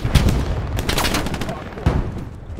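Gunfire in the World War II shooter Hell Let Loose, with sharp shots and bursts cracking close and loud around a player under fire, mixed with battlefield noise.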